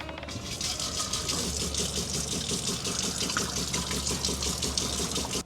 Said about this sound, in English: I'm about to throw my faucet on and make sure that there's no leaks or anything here